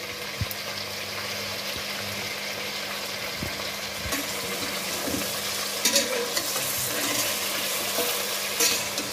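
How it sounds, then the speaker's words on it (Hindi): Chicken fries in oil with crushed garlic and ginger, a steady close sizzle and crackle with occasional stirring knocks and scrapes that grow slightly busier toward the end, without any talk. "चिकन हमारा हो रहा है फ्राई इसमें ऑयल में, और अब मैं इसमें डालूँगी कुटा हुआ लहसुन और अदरक।"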